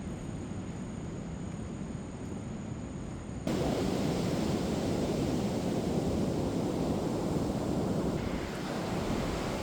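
Rough sea surf rolls onto a Costa Rica beach, a broad continuous wash of breaking waves with wind buffeting the microphone, growing noticeably louder partway through.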